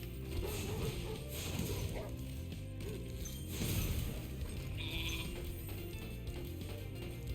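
Sheep bleating in Spyro Reignited's Artisans home world, heard amid continuous game music and effects, with a swell of activity near the middle.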